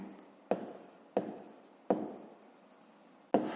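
Handwriting while answering a fifth-grade maths exercise: four short, close scratching strokes on paper, with brief quiet gaps between them.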